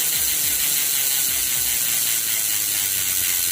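Hope Pro bicycle hubs buzz with a loud, continuous rapid ratcheting click, a steady freewheel whir heard up close with no talk.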